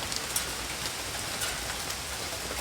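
Steady rain falls outside, a dense continuous hiss with scattered louder drops pattering on a surface, moderately loud and unbroken with no voices.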